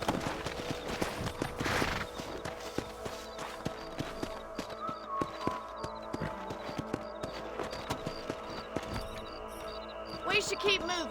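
Horses trot in the video game Red Dead Redemption, a steady clip-clop of hooves at moderate distance beneath in-game voices and music, with a brief whinny.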